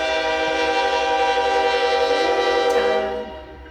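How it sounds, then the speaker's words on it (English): A train rumbles past with a loud, sustained horn blast that holds steady, then drops in pitch and fades as it moves away. "Just 1 second for the train."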